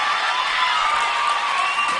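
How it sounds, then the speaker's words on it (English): Crowd noise at a high school wrestling match, Phillipsburg vs. Hanover Park, a steady, dense roar of cheering and shouting that holds evenly throughout with no single voice standing out. "And this crowd is into this right now"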